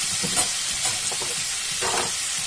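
Tomato, onion, green chili and ginger-garlic paste fry and sizzle in a pan for a matar paneer base, with a steady close crackle and a few soft stirring scrapes, no voices.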